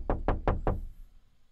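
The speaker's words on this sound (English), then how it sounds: "Someone's knocking at my studio door." Four quick, firm knocks on a studio door, close and evenly spaced, followed by a fading ring and quiet.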